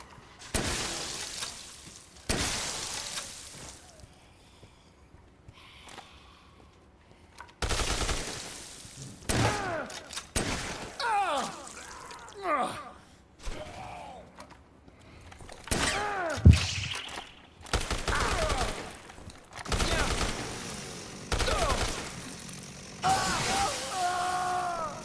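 Rocket launcher blasts tear into zombies in Dead Rising Deluxe Remaster, loud repeated explosive bursts mixed with shattering and crashing debris and scattered gunfire, coming in irregular waves with brief quieter gaps.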